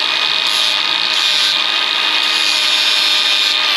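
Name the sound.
grinder grinding steel rock slider tube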